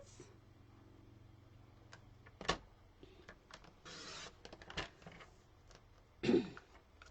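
A paper trimmer cuts card in a quiet room, giving faint clicks and handling taps, a short sliding rasp of the blade across the card, and a louder thump near the end.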